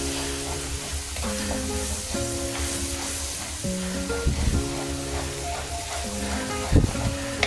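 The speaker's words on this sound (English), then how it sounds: "You're gonna cook until the roux thickens and it doesn't smell like raw flour." Butter and flour roux cooking in a pan with mushrooms, a continuous sizzle close by with scraping stirs, knocks and clinks now and then, no talk.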